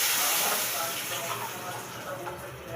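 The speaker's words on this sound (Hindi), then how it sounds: "यहाँ छौंक दूँगी मैं कढ़ी।" Steady broadband sizzling and hissing from a tempering of hot ghee poured into kadhi, loud at first and easing slightly, with faint background sounds.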